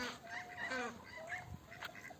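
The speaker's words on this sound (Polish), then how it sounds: "Tam czarny kaczor, biały kaczor, tamte dwa kaczory" Ducks and wild geese call in short, scattered honks and quacks at moderate distance, with outdoor background noise around them.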